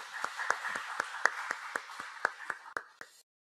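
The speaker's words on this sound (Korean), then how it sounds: "우리 하나님께 영광의 박수 올려드리시겠습니다." A church congregation claps during a Sunday worship service, sharp regular hand claps about every quarter second, fairly close and steady, fading out near the end.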